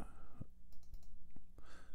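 Mouse clicks in MIDI editing software on a computer: several sharp, close clicks spaced irregularly, including a quick double click, over a quiet room hum.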